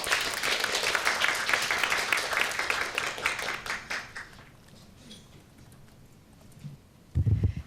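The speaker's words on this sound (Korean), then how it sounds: "유 연구원님을 뜨거운 박수로 맞이해 주시기 바랍니다." An audience at a Korean media forum applauds loudly for about four seconds as a speaker is welcomed, then the clapping thins out and fades to quiet murmurs, followed by a brief thump.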